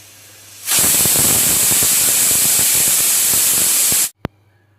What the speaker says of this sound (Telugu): కుక్కరు పొయ్యి మీద పెట్టి సిమ్లో ఒక విజిల్ తెప్పించుకోండి